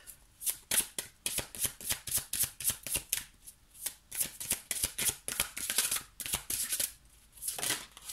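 Tarot cards being shuffled by hand, a rapid series of crisp riffling and slapping bursts repeating through the whole stretch, close and fairly quiet with no voice over it.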